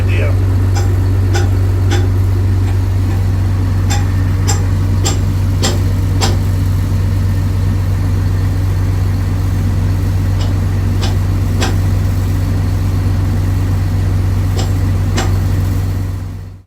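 A skid steer engine runs nearby as a constant low, heavy drone throughout, with a person talking over it.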